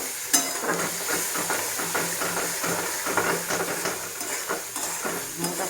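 Potatoes with cauliflower sauté in a pan, a continuous sizzle and hiss punctuated by scraping stirs of the spatula, close and moderately loud.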